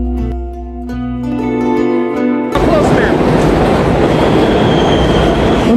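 A train rumbles through a railway station in a film scene. Music plays at first, then loud, continuous clattering rail noise takes over and carries on to the end.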